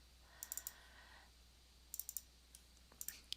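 Computer mouse buttons clicked in quick clusters on a desk, three short bursts of sharp, light double clicks spaced about a second and a half apart, quiet and close, with no talking.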